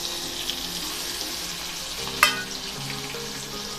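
Drumstick pods being stir-fried in a pan with turmeric and red chilli powder, a steady close sizzle with one sharp scrape of the spatula partway through, no voices.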